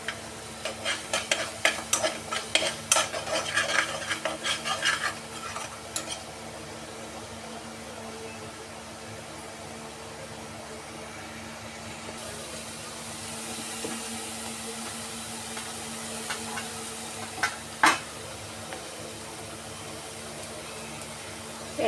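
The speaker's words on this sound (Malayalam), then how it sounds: "ഇനി ഇത് എണ്ണ തെളിയുന്നിടം വരെ ഇളക്കി കൊണ്ടുവരണം" Chicken curry masala stirred in a pan while oil separates: a spoon scrapes and clatters in quick bursts early on, then a low steady sizzle with an occasional single scrape, close and clear, no talking.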